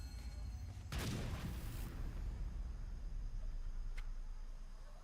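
A cannon booms once in Battle Chasers: Night War, a loud blast with a short rumbling tail over steady background noise.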